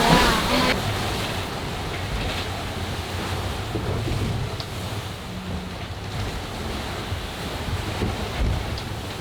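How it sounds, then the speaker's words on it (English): Wind roars and ocean waves surge around a sailboat on a Pacific crossing in a building storm of about 40 knots, with heavy microphone buffeting and continuous rushing water, loud and close. "During the day, the waves continue to build."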